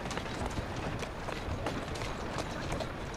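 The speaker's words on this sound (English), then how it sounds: "Oh, who's a good horse?" Horse hooves clip-clopping in the Assassin's Creed video game, a steady stream of quick, close hoofbeats running continuously with game ambience and no talk.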